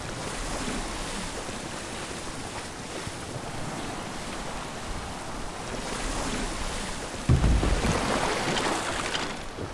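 A boat rides the ocean waves in Assassin's Creed Odyssey with a steady wash of surf and wind over open water, and a louder splash of a wave breaking near the end, with no talk.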